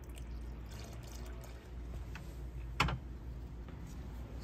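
Filtered water at 78 degrees is poured into a sourdough starter: a faint, steady trickle in a quiet room, with one brief clink partway through.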